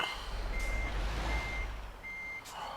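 Reversing beeps from a truck in Euro Truck Simulator 2, three evenly spaced tones over a steady low engine rumble, with a faint hiss near the end.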